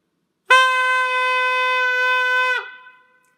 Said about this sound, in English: This example of a reed pipe sounds like this.